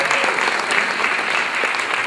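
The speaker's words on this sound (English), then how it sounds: "Another round of applause for hanging in there." Dense, sustained applause from a large audience at an Indian community celebration, a steady wash of many hands clapping with no break.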